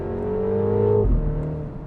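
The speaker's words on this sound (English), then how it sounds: "when you drop it into the go-kart mode, you'll hear it make a bit of a noise in a second" A 2025 MINI John Cooper Works Countryman ALL4 engine rises in a steady rev, then snaps with a brief deeper burst as it wakes up in go-kart mode, close and clear.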